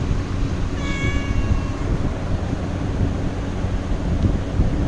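A single cat gives one short, clear meow early on, outdoors against a steady rush of wind noise on the microphone.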